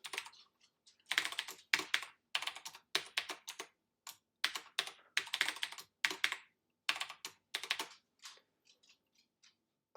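Keys clack on a computer keyboard as a password is entered, irregular bursts of close, crisp taps separated by short pauses.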